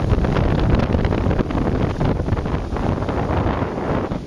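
Strong Hurricane Isaac winds in southern Alabama roar in a loud, continuous broadband rush with gusty buffeting against the microphone and no voices.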